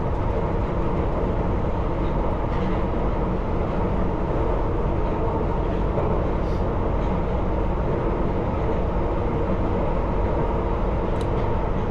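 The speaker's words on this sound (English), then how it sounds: "I'm just letting the train roll round here" London Underground Piccadilly Line train rolling eastbound along the track at around 32 mph, a constant loud low rumble and wheel roar heard from the cab, unbroken and without talk.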